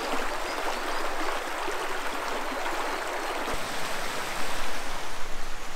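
The river in Lousios Gorge, Greece, rushes steadily nearby, a dense broadband hiss of flowing water that grows slightly louder and more turbulent toward the end.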